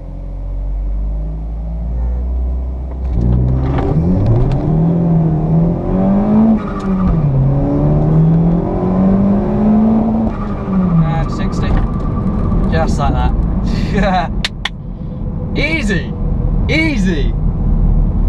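A Vauxhall Corsa VXR accelerating hard in first gear from a slight rolling start, fighting wheel spin: a loud, close engine note that climbs and wavers for several seconds, with people talking inside the car.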